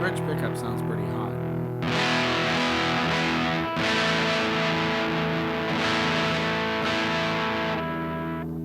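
A Temu Les Paul electric guitar played through its bridge pickup with heavy distortion rings out loud and sustained, with strummed chords struck roughly every two seconds after a few muted picks at the start.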